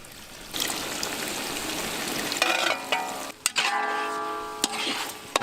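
Water poured into a hot pan of cooking onions with salt and red chili sauce, giving a loud hissing sizzle that sharpens into crackling and bubbling with a few sharp clicks, close up with no talking.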